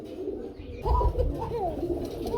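Pigeons coo in a series of soft, throaty calls, close by, with a low rumble of background noise between the coos, at a pigeon sale.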